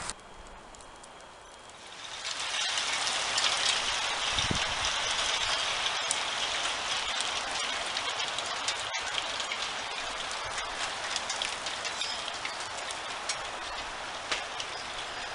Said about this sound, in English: this is spring in the inland northwest. It's hailing.